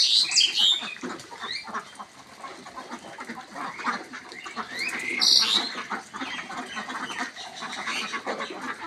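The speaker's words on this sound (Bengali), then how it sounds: "আলহামদুলিল্লাহ, দেখুন আমার হাঁসগুলো সুস্থ আছে।" A flock of 7.5-month-old Khaki Campbell ducks on a farm quacks in a busy, overlapping chorus, with louder bursts near the start and again midway, nearby and steady throughout.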